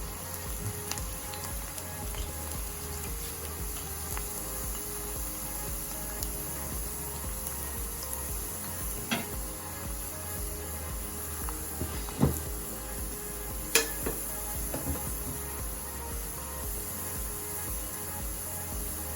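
Banana chips frying in a pot of hot oil, a steady dense sizzle and bubbling hiss continuing unbroken, with a few sharp clinks or taps standing out briefly midway.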